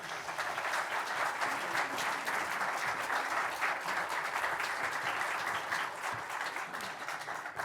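An audience at an author talk in Atlanta claps steadily and loudly for author Douglas Brinkley, a dense, even wash of applause lasting the whole stretch.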